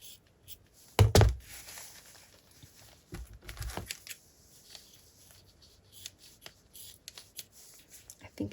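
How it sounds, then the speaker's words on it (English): Scissors cut through fabric scraps close up in a few crisp snips and crunches, with quieter rustling of cloth between them. "I know that it's not going to be easy to rip, so I'm just going to cut it."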